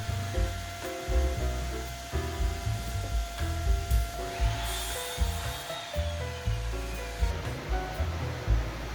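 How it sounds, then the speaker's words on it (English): A miter saw cuts through timber workbench legs, its motor a whining roar that swells in the middle of the cut, while a low rhythmic thumping pulses beneath it. "The miter saw doesn't quite have enough capacity to cut these legs in one pass, so I just need to rotate them to finish the cut."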